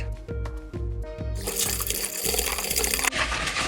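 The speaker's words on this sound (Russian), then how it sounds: "Дальше я вливаю сгущенное молоко." Condensed milk poured into a bowl of beaten eggs with a pinch of salt, a steady close liquid pour over a background of faint rhythmic tapping, with a brief thick gush near the end.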